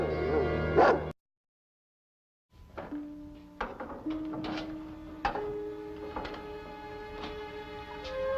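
A dog in a 1965 forest-ranger television drama barks and yips in a string of short, fairly close calls after a brief silence, with faint background noise.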